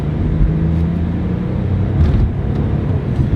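A worn Chevrolet Impala drives roughly with a steady low engine and road rumble, broken by a few dull clunks from the suspension despite new front struts. No one talks.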